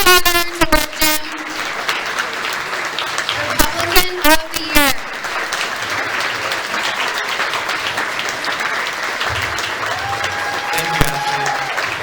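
Dinner-hall crowd at a Lincoln Day Dinner applauding a Republican of the Year award winner, a long, loud run of clapping that carries on under a speaker's voice at the start and again midway.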